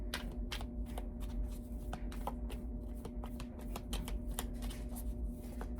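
Tarot cards are shuffled and drawn in a steady run of crisp riffling clicks and snaps, close and fairly quiet, over a low constant room hum.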